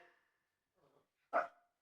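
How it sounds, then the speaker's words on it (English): A dog barks once loudly nearby in a house after a couple of softer, fainter barks and yips, with quiet gaps between them. "We have to apologize for the dogs in our house."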